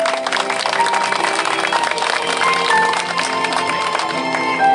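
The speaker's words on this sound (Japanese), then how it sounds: "はい、大きな拍手お願いします。" Applause from a festival crowd at a Dōmyōji battle reenactment festival with armored performers, a steady continuous clapping mixed with faint crowd noise and some background tones, moderately loud throughout.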